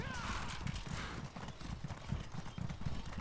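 Clip-clopping hooves of an adamant horse mount in The Elder Scrolls Online, a steady rhythmic trot running throughout with game music and ambience underneath.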